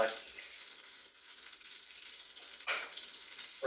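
Butter frying in a pan on a kitchen stove, a soft, steady sizzle with a couple of louder spits near the end, alone without talk.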